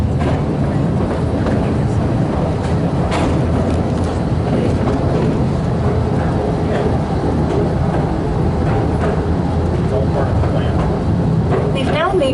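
Royal Mail's Mail Rail underground train at Mount Pleasant in London rumbles through a tunnel with a steady, loud roar and faint rail clatter, and voices murmur now and then.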